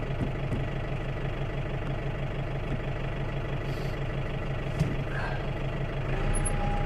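A farm diesel engine idles steadily nearby while warming up from cold, a low, even rumbling chug that continues throughout without revving.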